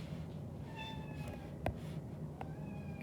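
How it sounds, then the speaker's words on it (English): Several house cats meow in a quiet room, a few drawn-out calls spread across the moment, with one sharper sound near the middle, fairly close and moderately loud over a steady low background hum. "You can hear my cats going"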